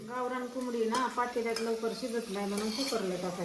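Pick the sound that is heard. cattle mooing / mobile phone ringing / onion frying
onion frying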